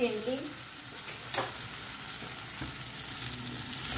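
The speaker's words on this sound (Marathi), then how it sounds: "टोमॅटोनी आमकां हें बरें सॉफ्ट जायसर कूक करून घेवंक जाय." Tomatoes and masala cooking down in a pan make a soft, continuous sizzle close by, with a brief scrape of stirring in the middle, fairly quiet and free of talk.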